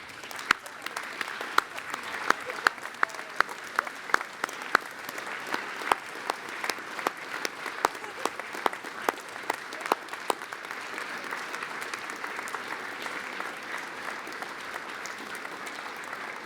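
A graduation audience at Loughborough University applauds at length, a sustained wash of many hands clapping with sharp individual claps standing out early, steady and moderately loud throughout.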